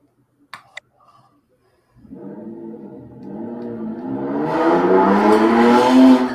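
After near silence, a passing car or motorbike engine swells in and revs higher, its whine growing steadily louder and closer.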